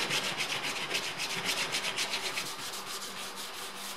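Body filler being sanded by hand on the bodywork of a 1983 Mercedes W123, a steady rhythmic rasping scrub of quick back-and-forth strokes, close and continuous with no talking.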